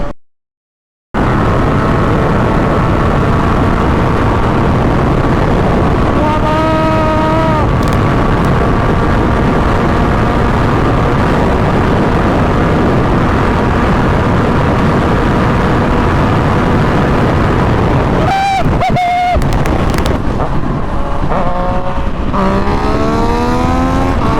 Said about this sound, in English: I'm gonna just hit the highway, try to top this bike out, hit the top speed.